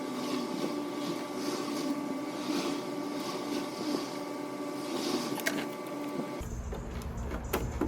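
A sewing machine stitches pajama fabric near piping. It gives a steady, close mechanical whir with a rhythmic hum that runs without a break, then shifts to a lower rumble near the end.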